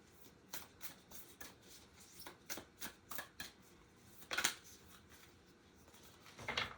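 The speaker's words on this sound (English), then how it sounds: "So let's just see what Starseed Oracle card comes up." Starseed Oracle cards being shuffled by hand, a quiet close series of crisp riffling bursts in an uneven rhythm, with two sharper flicks near the end.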